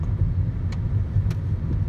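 A 2011 Lexus ES350 with nearly 250k miles driving along, heard as a steady low engine and road rumble from inside the cabin with a couple of faint ticks, no clear shift change.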